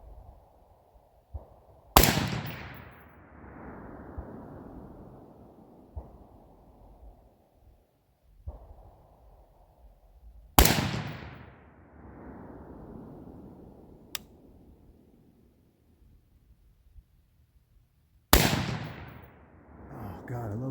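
AR-15 rifle fired outdoors: three loud, separate shots several seconds apart, each sharp crack followed by a long fading echo, with faint movement between them.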